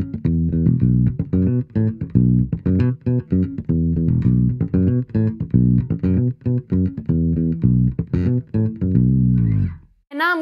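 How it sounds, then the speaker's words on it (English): A busy bass guitar lick through a compact TC Electronic BAM 200 bass amp, dense plucked notes in a driving, steady rhythm, loud and up close for about ten seconds, then a brief pause. "It's called BAM 200 and it sounds like this."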